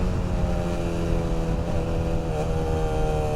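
A Bajaj Pulsar 220F motorcycle with a semi-fairing, ridden at a steady pace: a continuous droning engine hum with a gentle rise in pitch near the end, heard alone without talk.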